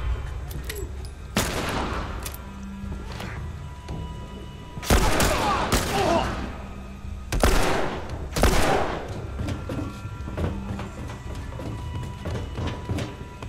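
Gunfire in The Last of Us, several loud shots and bursts spaced a few seconds apart over a noisy, steady game background.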